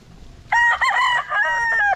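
A young gamecock stag crows once up close, a loud, bright call with a rising start and a long wavering tail, over a quiet background.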